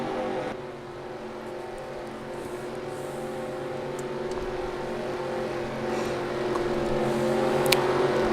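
Race car engines drone and build in a stock-car racing video game at Iowa Speedway as the pace car pulls in, a steady, fairly quiet harmonic roar that rises gradually toward the start.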